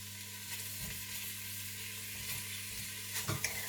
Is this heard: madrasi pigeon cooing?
no